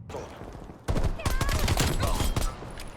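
Rapid automatic gunfire from a video game, triggered through a modded Xbox Series X controller, rattles in a quick burst that rises abruptly and runs for about two seconds before fading.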